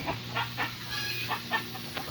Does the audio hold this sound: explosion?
no